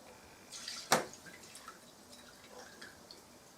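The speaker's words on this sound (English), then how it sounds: "I'll take this fat off, and I've got a little dish here to pour it into" A short splash of rendered pork fat poured from a roasting tray into a dish, followed by a few faint drips in a quiet room.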